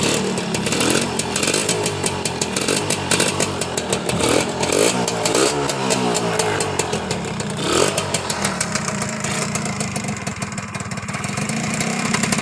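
A Honda Tena four-speed motorcycle with a mostly stock engine, running steadily close by with a buzzing two-stroke-style rattle and small revs rising and falling, no talking over it.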